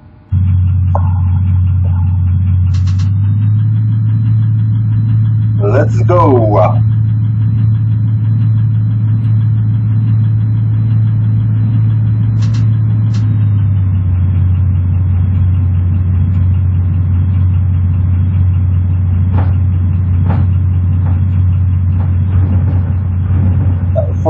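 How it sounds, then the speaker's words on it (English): A Wilbus railbus engine in the Metrosimulator game starts and runs with a loud steady low drone that rises in pitch briefly. A few short clicks and a brief spoken line are heard over it. "Activate the engine."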